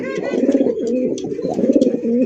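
Chakka racer pigeons at a breeding farm coo in soft, throaty, repeated calls, close and steady for a couple of seconds with no talk.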